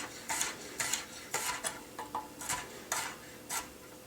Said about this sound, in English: Then chop up the clove into pieces.